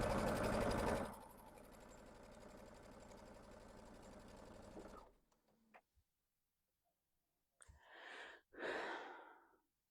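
A sewing machine stitches over a fabric seam, running loud and steady with a fast mechanical rhythm for about five seconds before stopping, followed by a few soft clicks and breathy handling sounds.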